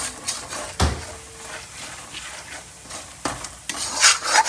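Stirring turmeric and spices for carrot pickle in a pan, with scraping strokes, a few sharp clinks of the utensil against the metal and a soft sizzle underneath, up close.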